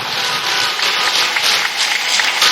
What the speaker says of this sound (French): Ton acclamation là ne me plaît pas.